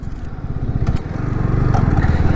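A Yamaha R15 V3 BS6 motorcycle engine cranks and fires up, settling into a close, rapid, throbbing idle that grows slightly louder over a couple of seconds.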